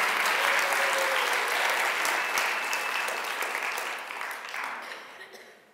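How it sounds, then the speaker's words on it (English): Audience at the Miss Indian UNM pageant breaks into loud sustained applause, a thick roar of many hands clapping with some cheering, holding steady and then fading out over the last seconds. "let's give a huge round of applause for our outgoing Miss Indian UNM"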